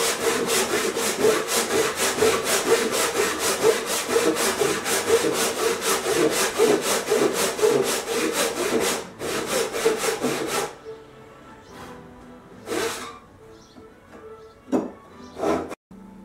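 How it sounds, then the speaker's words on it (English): A hand saw cuts the cheeks of tenons on the rear legs of a Townsend card table, rasping back and forth in a steady, close rhythm for about ten seconds before thinning to a few scattered strokes. "I'm cutting the tenons now."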